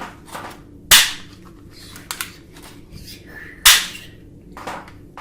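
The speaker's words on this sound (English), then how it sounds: "This heavy gun. This is a trigger." A toy ball-bullet gun fires two sharp, close plastic snaps a few seconds apart, with softer clicks of handling between them.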